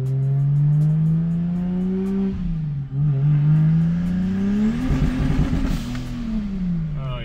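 A boosted 1000hp IS300 with an exhaust leak revs hard and loud up close, its engine note climbing and falling through several pulls, with crackling pops and backfires scattered through the later revs.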